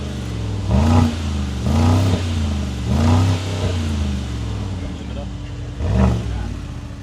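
An electric Mercedes G-Wagen revs its synthetic drive sound in four separate bursts, each a rising, humming whine over a steady electric drone, close and fairly loud.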